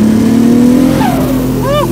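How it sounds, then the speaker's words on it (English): 800hp four-wheel-drive Nissan S15 Silvia with a street exhaust, its engine held at a loud, steady rev that rises briefly, with someone talking over the drone. "The exhaust is definitely a nice street setup."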